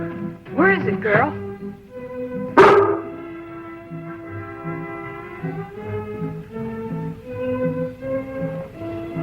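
A collie barks outdoors during a search for wild bees, giving a couple of quick yips followed by one sharp bark, with a voice talking in between.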